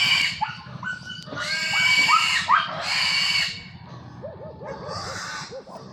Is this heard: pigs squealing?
yes